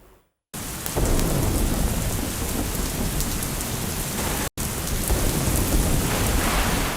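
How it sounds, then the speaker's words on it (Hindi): Heavy thunderstorm rain pours down steadily and loudly, a dense roar with rumbling thunder mixed in. A brief cut breaks it about midway, and there are no voices. "काले बादलों की खौफनाक घन गरज, आंधी और तूफान।"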